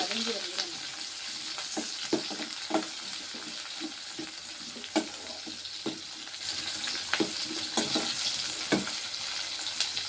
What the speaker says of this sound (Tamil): சின்ன வெங்காயத்தை அது கூட சேர்த்து நல்லா வதக்கிக்கலாம்